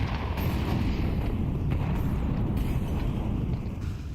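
Grenade explosions in a Counter-Strike match at a BLAST Bounty tournament, a dense, loud, sustained rumbling blast wash that fills the whole stretch and only tails off slightly at the end.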